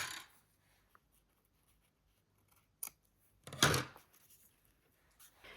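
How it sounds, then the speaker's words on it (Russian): Scissors trim excess satin ribbon on a layered bow in a quiet room: a few soft snips, then one sharper, louder cut near the middle, each sound brief and close. "Подклеиваем и лишнее подрезаем."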